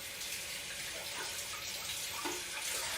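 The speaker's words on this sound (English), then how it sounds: "I'm gonna rinse my hands because they do get a little bit floury" Steady tap water runs into a sink as floury hands are rinsed, a continuous close splashing stream with no voices.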